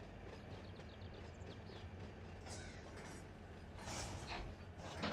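A BNSF locomotive runs in the Run 8 train simulator: a faint, continuous low engine rumble with a steady mechanical drone, swelling slightly near the end, with no voices.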